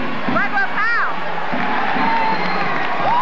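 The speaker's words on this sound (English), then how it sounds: "But that crowd's loud." At a 1993 NAC men's basketball semifinal between Drexel and Hartford, an arena crowd roars and cheers loudly and continuously, with whistles and shouts rising above the dense noise.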